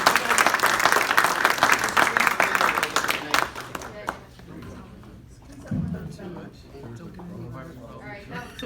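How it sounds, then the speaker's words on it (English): A women's day presentation audience claps loudly at first, a dense round of applause that fades out after about four seconds into quieter room noise and murmuring voices. "if we get one more round of applause"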